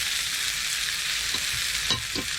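Whole small red onions fry in a pan alongside beef, giving a loud, continuous close-up sizzle with a couple of short stirring scrapes near the end.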